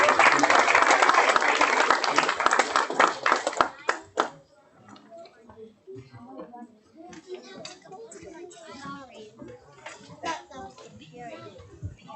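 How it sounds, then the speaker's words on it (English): Audience applause for a children's theater club walking up at a Black History Month expo, loud dense clapping for about four seconds, then scattered claps, shuffling and children's voices murmuring in the room. "Give them a round of applause as they walk up."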